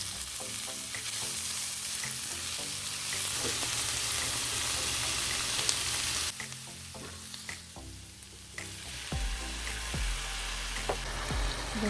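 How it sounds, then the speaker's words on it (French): Onions frying in a little oil in a saucepan, a steady close sizzle with occasional stirring scrapes and a low hum underneath. "c'est un tout petit peu d'huile dans une casserole et puis on va ajouter les oignons"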